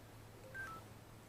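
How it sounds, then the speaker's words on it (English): A smartphone sounds a bank notification alert, a single brief tonal chime rising faintly over a low steady hum outdoors near crops, with no talking. "that was my phone telling me, my bank telling me."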